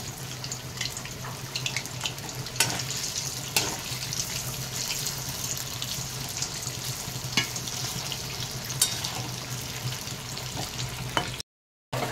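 Paneer pakoras fry in hot oil, a steady sizzle that runs almost the whole time, with a few sharp clinks and scrapes and running water in the background. No one speaks.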